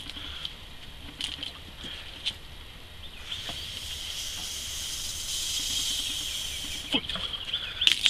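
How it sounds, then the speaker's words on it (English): Air is blown steadily into the water-filled inlet of an RV water pump, producing a soft continuous hiss and faint bubbling, with a few small knocks and clicks nearby and no talk. "I'm going to blow into it. Water comes back out."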